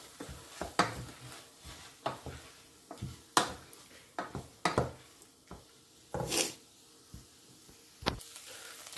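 Onions being stirred in a pot for onion soup: a steady series of sharp scraping and knocking strokes of a spoon against the pot, at close range and uneven in rhythm, with no talking.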